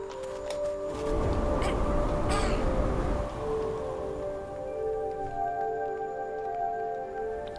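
Bird-man creature in the video game Never Alone giving a harsh, loud caw for a couple of seconds over steady tonal music and ambience, with a few faint clicks before it.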